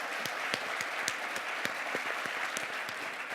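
Audience applause at a Heritage President's Club meeting session on economic growth: a steady, moderately faint wash of many hands clapping from a large room, continuous throughout with a few distinct claps standing out.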